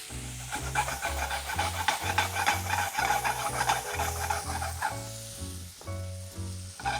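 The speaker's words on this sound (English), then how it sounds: "I'm going to reduce the temperature of the pan and go in with our butter." Butter added to a hot pan of seared scallops, a close rubbing, scraping sizzle with a repeating rhythmic pattern over a few seconds, no speech.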